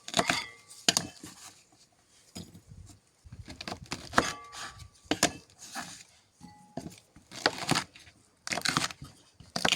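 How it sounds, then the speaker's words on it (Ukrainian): A knife chops through sweet peppers on a cutting board in irregular bursts of crisp, close cuts with short pauses between. "нам потрібно відрізати попки у перців і трошки їх подрібнити"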